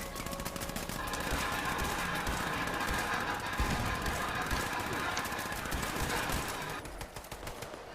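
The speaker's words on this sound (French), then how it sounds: "Faites feu à vue sur le sentinelle en face. Laissez pas s'approcher. Tir de barrage." Sustained, dense automatic gunfire rattles for several seconds in the video game Fallout 76, loud and continuous before tapering off at the end.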